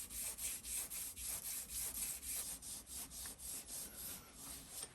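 A mini lathe cross slide is rubbed with very fine sandpaper, producing a soft, rhythmic back-and-forth rasping of about twelve even strokes, close and fairly quiet.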